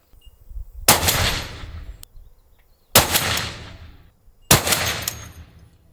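Three heavy suppressed Barrett M107 rifle shots fired at a 1,000-yard range, each a sharp loud blast with a long decaying rumble, spaced about two seconds apart with no talk.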